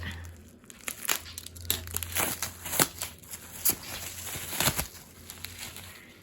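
Tape and packaging crinkle, tear and rustle in repeated bursts as a box taped on all sides is pulled open, close and fairly loud, with a steady low hum underneath.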